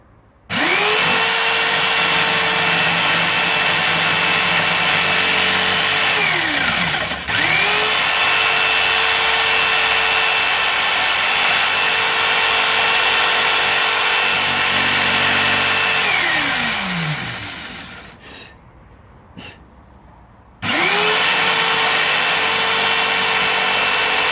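A power tool cuts notches into a piece of wood for a wooden stand that holds a glass bowl, giving a loud, steady whine that winds up and down over two long passes, stops briefly, then starts again.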